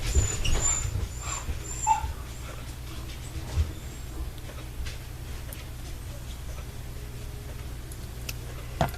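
An indoor dog whimpering and whining, unhappy as a cat passes in front of it; soft, intermittent whines over a low steady hum, fairly close.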